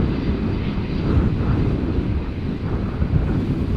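The jet engines of a British Airways Airbus A319 at Schiphol give off a broad, rumbling roar mixed with wind buffeting. The sound is loud and continuous, with no voices.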